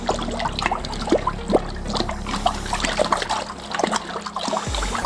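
Home brew beer being stirred in a fermenter: steady liquid swishing and trickling with small splashes, close and continuous, with no one speaking.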